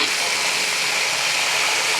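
Water rushes steadily and loudly from a sink faucet being flushed out after a house was winterized and the well pump turned back on, a constant bright hiss with no pauses.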